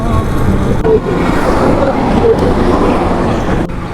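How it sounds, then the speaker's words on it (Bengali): Steady roadway traffic of buses, trucks and private cars rumbling past near a toll road, a continuous loud wash of engine and tyre noise with faint background voices. "এই রোডের মধ্যে দেখবেন এখনও বাস চলতেছে ট্রাক চলতেছে প্রাইভেট কার চলতেছে"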